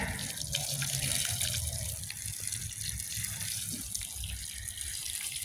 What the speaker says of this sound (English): And I'll water this in with a little bit of fertilizer.